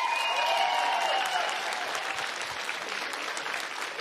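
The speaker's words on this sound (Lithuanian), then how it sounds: "Plojimai." Steady applause fills a children's song contest hall, dense and even, with a brief tonal whistle or musical note over the start before the clapping continues alone.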